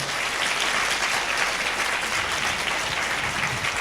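Church congregation at a Sunday service clapping loudly together, steady dense applause filling the space from start to finish with no talking over it.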